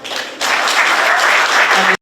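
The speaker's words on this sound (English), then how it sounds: "that deserves a round of applause" A studio audience breaks into applause after a brief quiet lead-in, a dense burst of clapping that holds steady for about a second and a half before cutting off abruptly.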